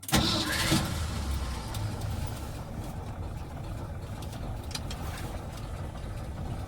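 A 1977 Ford F350 truck engine idles steadily with a low rumbling drone, close and continuous throughout, after a brief start-up surge.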